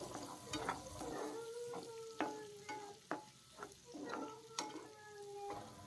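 Green chillies, chopped tomato and curry leaves stirred in a frying pan for prawn fry, a steady sizzle broken by repeated sharp scrapes and clinks of the spoon against the pan, close and moderately loud, no voices.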